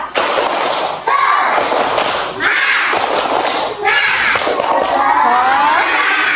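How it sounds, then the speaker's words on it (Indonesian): A class of pupils performs a rhythmic spirit clap, loud bursts of patterned clapping and thumps mixed with children shouting and cheering in short phrases, close and energetic. "Nah, biar lebih semangat kita tepuk dulu. Tepuk semangat."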